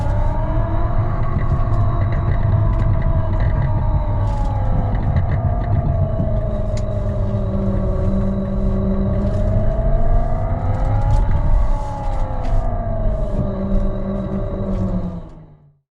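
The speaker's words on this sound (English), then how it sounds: "this is sound 7, Lamborghini V10 by the sounds of it" A Tesla Model X fitted with a Milltek active sound exhaust playing a synthesized Lamborghini V10 note, a loud, continuous engine drone with rising and falling revs and deep rumble, holding steady before cutting off abruptly at the end.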